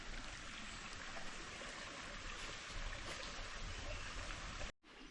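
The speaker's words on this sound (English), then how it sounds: "Water's still running down this section" Water runs steadily down a rainforest trail at Lake Tinaroo, a continuous close trickling and gurgling wash with no pauses until a brief dropout just before the end.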